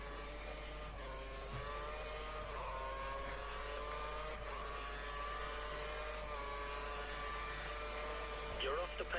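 Formula 1 car on a flying practice lap at the Australian circuit in the video game F1 2013, its engine whining at high revs and shifting pitch steadily through the lap. A commentator's voice runs over it.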